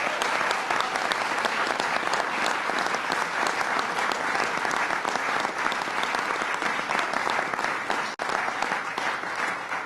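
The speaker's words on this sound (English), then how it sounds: "let's give the legislative leaders a round of applause." A large audience gives sustained, dense applause for legislative leaders at a New York governor's announcement of the Marriage Equality Act's passage, loud and continuous throughout with no speech.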